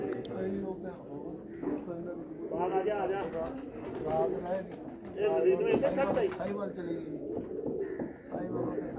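Pigeons coo repeatedly near at hand in a loft of competition racing birds, their soft throaty calls overlapping with steady background voices talking.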